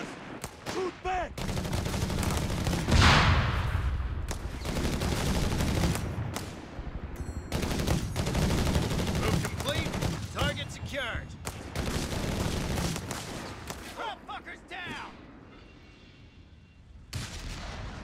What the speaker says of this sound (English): The cowards are shooting at us!